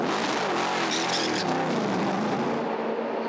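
A race car in the Asian Le Mans Series at Abu Dhabi accelerates hard, its engine note climbing in a loud, continuous roar that passes close by.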